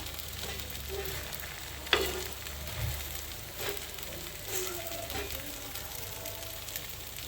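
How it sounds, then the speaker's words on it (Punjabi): An aloo paratha cooks on a hot griddle with a soft, steady sizzle, broken by a few quiet scrapes and presses of a spatula, faint and close. "ਹੁਣ ਆਪਾਂ ਇਹਨੂੰ ਪਕਾ ਲਾਂਗੇ ਦੂਸਰੇ ਪਾਸੇ ਨੂੰ ਵੀ ਚੰਗੀ ਤਰ੍ਹਾਂ ਚੰਗੀ ਤਰ੍ਹਾਂ ਸੇਕਾਂਗੇ ਆਪਾਂ ਪਰੌਂਠੇ ਨੂੰ"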